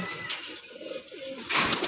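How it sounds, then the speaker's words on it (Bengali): Racing pigeons in a loft coo softly in a low murmur, with a brief louder rustle or flutter near the end. "এখানে আমরা অনেক সুন্দর সুন্দর কবুতর দেখতেছি"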